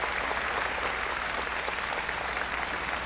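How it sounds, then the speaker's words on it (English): A crowd at the Stan Sheriff Center applauds injured volleyball player Brianna Lynch during a Rainbow Wahine versus West Virginia match, a thick, continuous wash of clapping echoing through the arena. "The crowd applauding Brianna Lynch as she is assisted off the floor"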